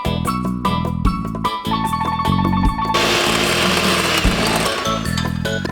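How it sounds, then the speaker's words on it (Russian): An electric mixer whirs loudly and continuously as it beats eggs with sugar, the tone shifting slightly as the beaters work, heard close with music playing over it. "яйцам добавляем 150 грамм сахара и миксером хорошенько взбиваем"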